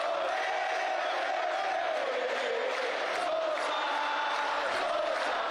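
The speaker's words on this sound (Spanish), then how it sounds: "Ovación para Sosa por parte de la gente." A stadium crowd at a Rosario Central vs Talleres football match gives a sustained ovation for the player Sosa, a broad, distant roar of voices that swells and holds without a break.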